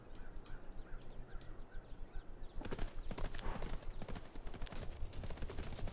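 Horse unit attacking in the video game Civilization 6, with rhythmic hoof clip-clop and a brief clash of combat noises, set over game background sound.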